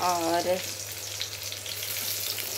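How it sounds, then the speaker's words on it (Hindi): Green chilies fry in a pan with a steady, close sizzle and light popping, after a brief spoken word at the start. "वही वाली ये मिर्ची है, इसको फ्राई करके दिखाते हैं"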